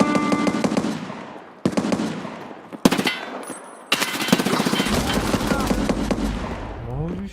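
Sharp automatic gunfire in Escape from Tarkov, several loud, close bursts separated by short silences, followed by a longer sustained stretch of rapid shots.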